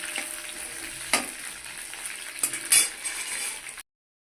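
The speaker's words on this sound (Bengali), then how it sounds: "ভেন্ডিগুলোকে একটু ভালো করে উল্টে পাল্টে ভেজে নেবো।" Okra sizzles in a wok as a spatula turns it over, a soft frying hiss broken by a few sharp metallic scrapes and clinks, ending abruptly in silence.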